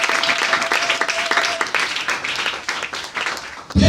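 A church congregation bursts into applause and clapping, a dense crowd of hands filling the space for a few seconds before fading out.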